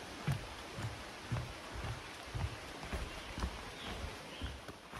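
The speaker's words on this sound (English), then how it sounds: "And as you can see, it is raining. Just sprinkling now, but it's going to get worse." Light rain sprinkles steadily on the Appalachian Trail in Virginia, a soft hiss under evenly spaced low footfalls that continue throughout.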